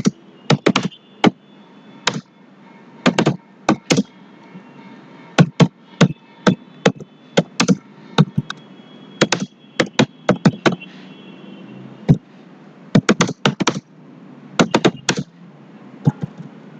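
Typing on a computer keyboard while working in Microsoft PowerPoint, with sharp key taps in irregular clusters and brief pauses across a long stretch, close and fairly loud, with no talking.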